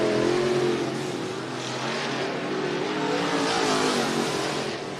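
IMC Modified race cars roar away at the green flag at Cottage Grove Speedway in Oregon, a loud, continuous pack of engines accelerating together with no break.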